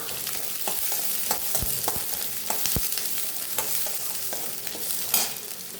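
Onion and green chili frying in oil with popped mustard seeds for sambar, a steady close sizzle with scattered sharp crackles and pops and occasional stirring scrapes, no voices.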